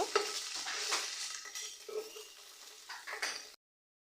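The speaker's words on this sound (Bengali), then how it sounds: "এর মধ্যে তেল গরম হয়ে গিয়েছে দিয়ে দিচ্ছি পেঁয়াজ কুচি যে হাফ চা চামিচ পেঁয়াজ বাটা চামিচের মতো আদা আর রসুন বাটা ছাড়া করে ভেজে নিব" Chopped onion with onion paste and ginger-garlic paste fries in hot oil while a spoon stirs it, a close hiss broken by scraping strokes that stops abruptly near the end.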